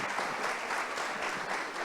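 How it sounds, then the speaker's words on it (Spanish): Audience at a business panel discussion applauding a former youth entrepreneurs' association president, steady dense clapping filling the room throughout, fairly distant and even. "Un fuerte aplauso para él"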